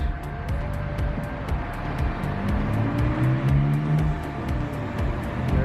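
Road traffic on a city street in Sofia, Bulgaria, near the Lions Bridge, with cars rumbling past one after another and engines rising and falling, plus a steady ticking click over the continuous road noise.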